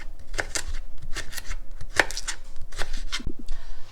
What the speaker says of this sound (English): And then we cut these bits into julienne